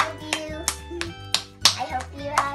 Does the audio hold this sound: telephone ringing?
no